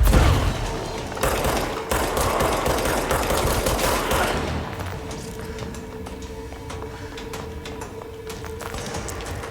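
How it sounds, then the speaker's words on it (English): Explosive weapon fire in the video game Control: a dense, loud barrage of booming shots and blasts at first, thinning to scattered sharp impacts over a quieter hum. "somebody's shooting rockets"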